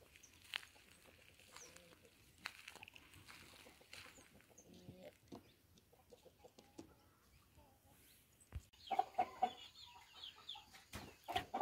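Chickens on their perch at dusk on a farm, giving faint scattered clucks and soft calls, with a louder burst near the end, under a person talking.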